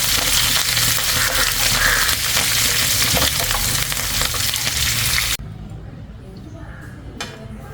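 Curry leaves and sliced onions frying loudly in hot oil in a pan, a dense crackling sizzle that drops abruptly to a quieter, softer fry partway through, with faint background talk.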